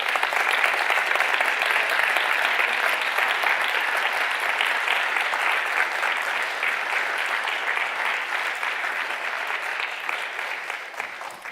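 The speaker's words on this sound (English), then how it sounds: "Give them a round of applause." Sustained, dense audience applause fills a hall in Berlin as five finalists come onto the stage, loud and even throughout with no pauses.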